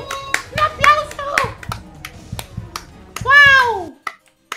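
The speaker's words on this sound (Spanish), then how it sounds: "Me quedaría aplaudiendo toda la vida, Marichat." Several sharp hand claps ring out between bursts of excited, high-pitched voices and whooping cries during Roblox Flee the Facility gameplay.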